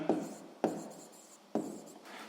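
Pen strokes scratch across paper as a maths answer is written down, three distinct scribbling bursts in close succession, near and quiet with no talk.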